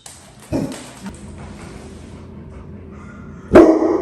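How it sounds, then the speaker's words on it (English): A puppy lets out a couple of sharp barks, one near the start and a louder one near the end, separated by a quiet room with faint background noise. "did you hear that other puppy?"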